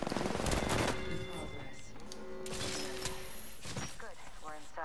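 Gunfire in the video game Apex Legends, with loud rapid automatic bursts at first, then shots and game effects continuing under a persistent tonal hum.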